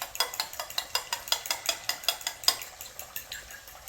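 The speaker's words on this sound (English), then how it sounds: "So we're just gonna mix that all up together." A utensil stirs hot butter sauce in a pan with quick, regular scraping strokes, about a dozen evenly paced swishes, close and clear with no talking.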